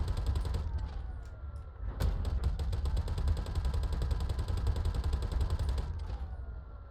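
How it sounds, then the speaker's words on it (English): The Ares Inferno heavy fighter's ship gun in Star Citizen fires in a loud, rapid, continuous stream of shots over several seconds, with a brief pause near the start and a heavy rumbling backdrop. "So it doesn't really fire any faster even if you give it more power."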